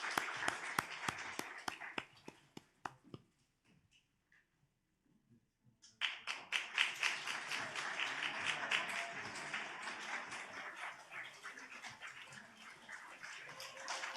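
Applause from a congregation during a Sunday church service, a dense patter of claps that fades to near silence and then swells back into loud, sustained clapping near the end.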